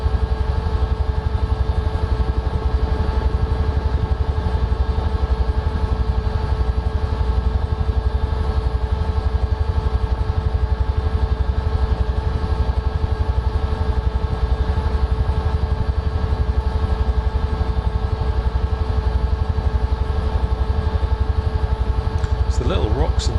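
A UH-1H helicopter in Microsoft Flight Simulator, flying low over Iceland's waterfalls: a loud, constant engine drone with a steady tonal whine and rotor hum that holds unchanged throughout.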